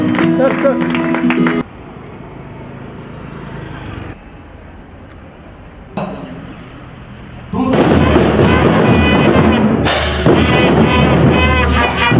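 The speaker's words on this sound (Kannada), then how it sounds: "ಕೈ ಚಪ್ಪಾಳೆ ತಟ್ಟುತ್ತಾ ಇರೋಣ" A crowd applauds at a college golden jubilee inauguration, with loud sustained clapping that stops, leaves a quieter stretch with faint background sound, then surges back strongly with voices mixed in.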